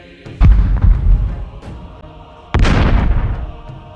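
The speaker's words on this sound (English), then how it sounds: "the cannon take aim at the closest Beastmen targets and unleash a volley of fire" Cannons fire a volley in a Warhammer-style Empire versus Beastmen tabletop battle, producing two loud, booming blasts about two seconds apart. Each blast rolls and rumbles before decaying.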